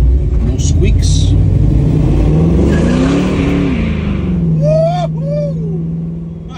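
A 1969 Chevrolet Camaro with a 350 V8 and mild shift kit accelerating on a test drive, engine roaring loud and close and rising in pitch before easing off.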